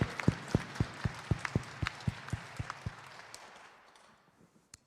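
A congregation in a large church sanctuary claps in thanks during a revival service, a quick run of distinct loud claps that thins out and fades to a few scattered final claps.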